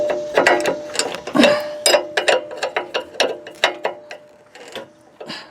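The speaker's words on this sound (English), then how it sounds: "I'm going to tighten that 15mm nut right there" Ratchet wrench tightening a 15mm nut on a John Deere lawn tractor mowing deck, a series of close, sharp clicking bursts in uneven strokes, with no talking.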